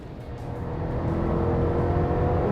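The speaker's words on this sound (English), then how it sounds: "Whoa, okay, that is a V8" A 2022 Chevrolet Silverado ZR2's 6.2-liter V8, paired with a 10-speed automatic, rumbles deep and steady, building slightly in loudness as it revs, heard alone without talk.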